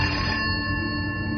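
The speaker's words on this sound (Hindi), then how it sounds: "तभी केबिन का लैंड फोन बजा।" A landline telephone rings in an office cabin, a steady electronic ring tone held near and loud for the whole moment, with no talk over it.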